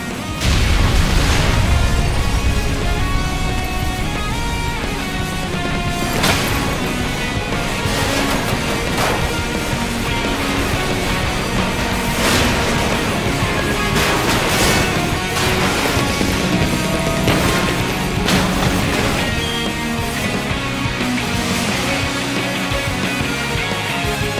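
A loud, sustained explosion from the video game Sonic 06, with dense crashing and booming bursts over a steady game music bed, continuing for the full stretch without speech.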